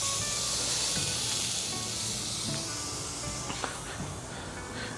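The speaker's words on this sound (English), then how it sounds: "Let me sear this thing." Prime rib sears over a hot PK360 grill, giving a continuous loud hiss and sizzle that holds steady throughout, close up with no talking.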